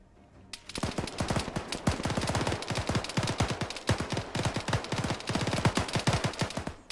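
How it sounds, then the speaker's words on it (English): Rapid automatic gunfire in the military shooter Arma 3, a loud sustained burst of sharp, closely spaced shots rattling continuously for several seconds with no pause. "There we go, he finally gets a shot in."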